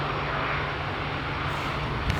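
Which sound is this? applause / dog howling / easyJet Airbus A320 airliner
easyJet Airbus A320 airliner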